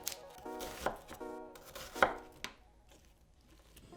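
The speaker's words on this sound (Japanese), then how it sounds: "玉ねぎ1個は厚切りにします。" A knife chops thick slices through a crisp onion on a cutting board, a few uneven strokes with short pauses between them, close and moderately quiet.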